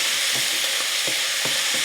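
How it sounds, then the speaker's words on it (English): A pan used for walleye gets deglazed with white wine, giving a loud, steady sizzle close up, with soft scraping strokes as brown bits are stirred loose. "Then deglaze it with a 1/4 cup of white wine."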